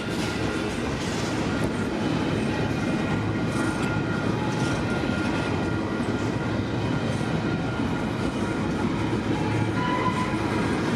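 A train rolls past nearby in a Canadian rail setting, a steady loud rumble of wagons with faint rhythmic clatter running throughout, no talking.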